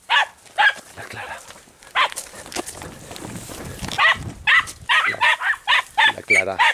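Andalusian podenco hunting dogs bark in short, sharp bursts during a rabbit hunt, loud and close, in repeated clusters with quiet gaps, while a person talks between the barks.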